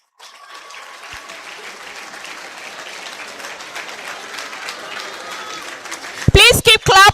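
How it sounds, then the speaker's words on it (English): An audience claps steadily at a university faculty dean's awards ceremony, the applause rising gradually, before a loud voice cuts in over a microphone near the end. "Please keep clapping."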